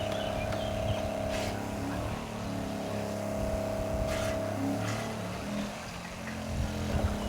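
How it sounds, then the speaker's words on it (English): A pump runs on a lawn fertilizer tank, humming steadily with a mechanical, engine-like tone and faint rattles, close and continuous without speech. "So the pump's on"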